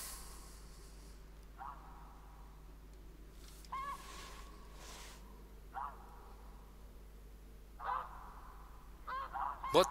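Snow geese honk in short bursts at a bow-hunting decoy spread, several separate calls spread across the scene at moderate distance over a steady low background hum, with the calls growing busier and louder near the end.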